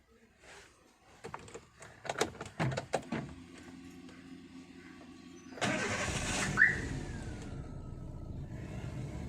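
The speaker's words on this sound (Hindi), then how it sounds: "फिर से गाड़ी चालू करके" A Chevrolet Beat with a warm-engine no-start fault (codes P0342, P0037) is started: several sharp clicks and knocks come first, then the engine cranks and catches into a steady, close idle.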